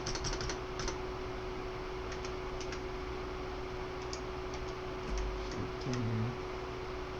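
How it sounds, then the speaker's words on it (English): A computer keyboard is typed on while entering a search, with quick bursts of close, light key clicks over a steady background hum and a brief low rustle near the end. "Alright, let's type in brick"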